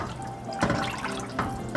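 Water pours into a pot for chicken noodle soup with a splashing, gurgling rush and a couple of louder bursts.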